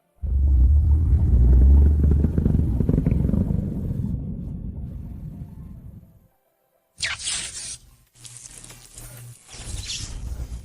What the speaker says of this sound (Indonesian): Ada serigala mutan yang sangat menakutkan.